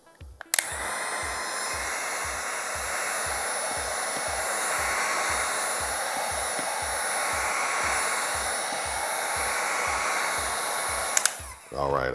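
A heat gun blows hot air onto a sticker on a sneaker, giving a loud, steady whirring roar that starts suddenly, holds for about ten seconds and then cuts off.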